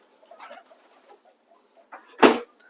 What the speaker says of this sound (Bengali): সব পায়রা খাবার জন্য কেমন করছে